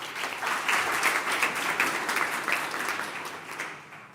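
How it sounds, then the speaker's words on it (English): A general assembly audience gives a remote speaker a sustained round of applause. The clapping is dense and even, holds at a moderate level throughout and fades slightly toward the end. "Here's your applause."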